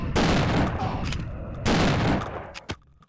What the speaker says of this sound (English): These shotguns in particular feel straight up unfinished.